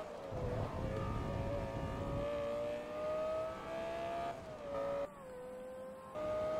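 Lamborghini engine in Forza Motorsport 2, a sustained high drone that rises and dips slightly as the car drives, with a short dip near the end before the tone resumes.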